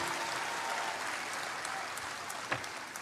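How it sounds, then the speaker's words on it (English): An audience at a Save Soil gathering in Kathmandu, Nepal, claps in a fairly faint, steady wash of applause that continues throughout, with a slightly louder clap near the end. "I think that requires a round of applause for all of us."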